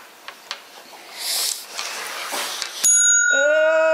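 A bicycle bell rings sharply and loudly near the end, its bright metallic tone lingering after some rustling and handling noise outdoors.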